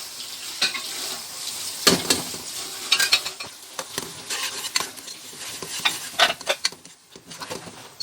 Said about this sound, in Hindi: जो हमने टमाटरों का पेस्ट बनाया था वो भी डाल देंगे, अच्छी तरीके से मिक्स करेंगे